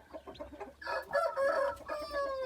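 An Aseel Shamo hen with newly hatching chicks makes close, loud clucking that builds into a harsh, drawn-out call, with short chirps and low rustling behind.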